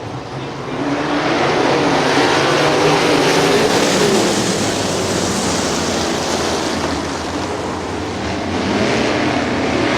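Non-wing sprint cars race at Butler Battlegrounds in Quincy during a Friday night special, filling the air with a loud, steady roar that swells and holds throughout with no talking.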